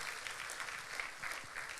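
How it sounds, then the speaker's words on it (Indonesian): A church congregation applauds to give praise to God after a sermon, a brief steady wash of clapping heard from a distance, fairly quiet and even throughout. "kasih tepuk tangan kepada Tuhan"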